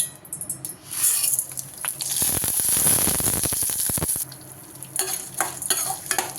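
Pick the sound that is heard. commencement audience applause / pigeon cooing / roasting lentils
roasting lentils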